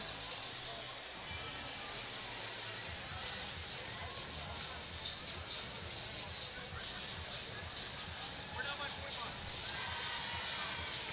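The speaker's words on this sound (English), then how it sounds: "No problems with that crowd reaction there." A loud stadium crowd roars and cheers throughout a college sports game between Oklahoma and Arkansas, with a steady wash of noise and rhythmic pulses of chanting or clapping.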